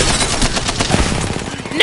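Rapid automatic gunfire from the video game Apex Legends crackles in dense, continuous bursts throughout, loud and close, with layered shot impacts and no clear gaps.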